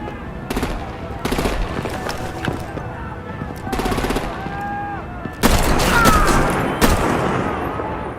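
Sustained bursts of rapid machine-gun fire and heavy artillery in the Batman: The Enemy Within video game, loud and dense, with a brief lull before a fresh louder barrage near the end.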